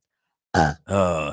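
Two loud, close burps in quick succession on a radio call-in show after a moment of silence, the second longer and deeper.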